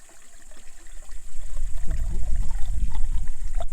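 Water from a mountain spring, used as a shower on a trek in the Chartreuse, pours and splashes close by, starting faintly and swelling into a steady, rushing trickle.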